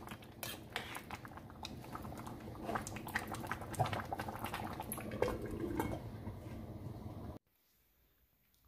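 Soup with garlic and coriander simmers in a pot on the stove, giving a continuous bubbling and clinking liquid sound, close and steady, then cutting to near silence at the end.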